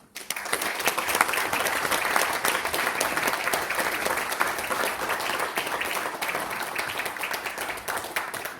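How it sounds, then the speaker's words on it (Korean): Sustained applause from a lecture audience welcoming a speaker to the stage at a Korean faith-themed talk, steady dense clapping for the full length with no voices over it. "나오실 때 뜨거운 박수로 맞이해 주시면 감사하겠습니다"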